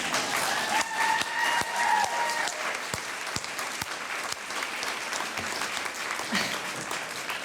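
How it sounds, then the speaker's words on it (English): Audience applause at a school board of education forum: a sustained, moderately loud patter of many hands in a room, with a few sharper nearby claps and faint background murmur. "Now you can applaud."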